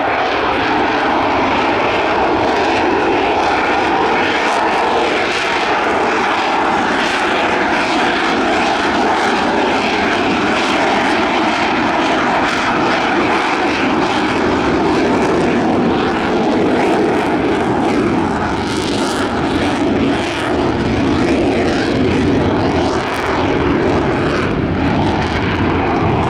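An RAF F-35B fighter jet flying a display at the RIAT airshow, a loud, sustained roar of jet engine thrust that rumbles and surges continuously throughout, very close and powerful.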